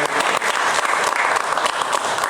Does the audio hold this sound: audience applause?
yes